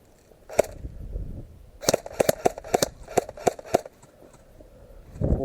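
Airsoft guns fire during an outdoor airsoft game: a single shot, then a quick run of about eight sharp snapping pops in uneven rhythm, fairly close, with a louder rustle at the end.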